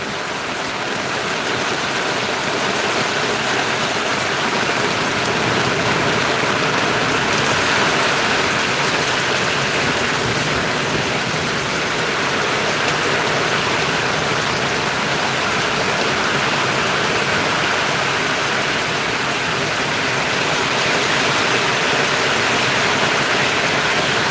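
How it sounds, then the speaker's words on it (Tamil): Heavy rain pours steadily in Valliyur during a thunderstorm, a dense, continuous roaring wash with no break and no voices. "வள்ளியூரில் இப்போது தற்சமயம் நல்ல மழை பெஞ்சிட்ருக்கு"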